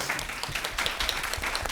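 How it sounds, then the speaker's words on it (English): An audience applauds panelists at an educational panel discussion on African American oral history, a brief, steady burst of clapping from a room of people, with no voices over it. "So real quick applause for our panelists."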